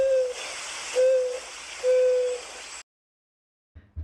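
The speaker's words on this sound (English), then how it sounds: "Just listen to that. That's that prairie dove." Prairie dove calling at a provincial campground at Writing-on-Stone, three soft hooting notes spaced about a second apart, then quiet.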